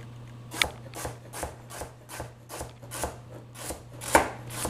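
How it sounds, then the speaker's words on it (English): Knife chopping carrots and celery on a cutting board for tomato soup, about ten steady, evenly spaced chops in close, clear succession, with no talking. "So we're going to be chopping away."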